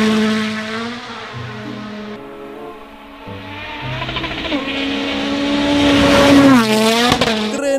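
Sound effect from an orange toy race car: a revving engine tone that climbs in pitch, with a tire-squeal-like sweep near the end and a light music bed underneath. It grows louder toward the finish.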